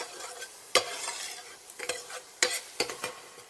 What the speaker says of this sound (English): Let that cook down a little bit.